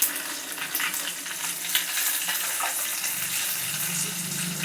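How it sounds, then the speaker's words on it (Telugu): Spices tempering in hot oil for a chutney make a steady, dense sizzle that runs unbroken throughout, with a few louder crackles and scrapes of stirring and no talking over it. "చట్నీ తాలింపు చేస్తానండి."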